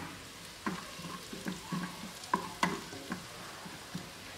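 Onion being fried and stirred in a pan, with soft sizzling under a run of light scraping strokes and occasional sharper clinks of the utensil, close and fairly quiet.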